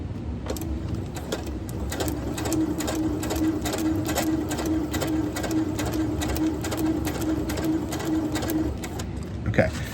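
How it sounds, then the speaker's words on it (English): A sewing machine runs steadily, stitching kites onto a line for a kite arch, with a continuous buzzing hum and rapid needle ticking throughout, then a brief clatter at the end. "I'm gonna keep sewing."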